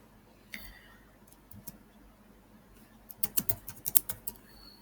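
Keys tapped on a computer keyboard while an email ID is entered, a brief click early on, then a quick burst of close, crisp keystrokes in the last two seconds over a quiet room.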